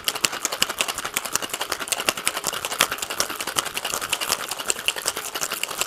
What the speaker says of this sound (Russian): Ну а теперь 10 минут интенсивного шейка